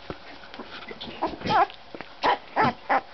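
Young puppy, eyes just starting to open, gives soft whimpers and yips close by, several short cries in a burst toward the end over a quiet room.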